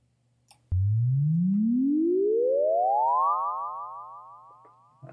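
A synthesized sci-fi effect: a single smooth tone sweeps steadily upward in pitch for about three seconds with layered harmonics, then fades out, clean and alone against a faint low hum.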